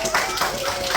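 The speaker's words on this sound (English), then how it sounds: "Give her a round of applause." Steady applause from a crowd at a mermaid show, dense and continuous for the whole second, with faint voices mixed in.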